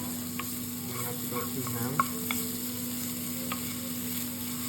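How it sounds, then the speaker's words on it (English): Ginger stir-fried in a pan gives a steady, close sizzle with a few light clicks of a utensil against the pan, and a voice speaks briefly over the frying. "and then add in our ginger. Just keep stir frying."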